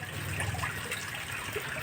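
Drinking water pours out to waste from a supply line, a steady close trickling and splashing flow without pause.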